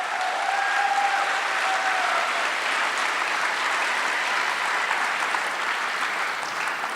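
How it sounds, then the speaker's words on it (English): Audience at an evening stage event giving a round of applause to people standing on stage, with a sustained, even wash of many hands clapping and a faint voice or whistle near the start. "Give them a round of applause."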